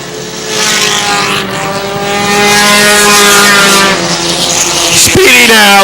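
Race cars roar past on a short track, engines swelling loud and close with a rising then falling pitch as the pack goes by, while an announcer talks over the noise.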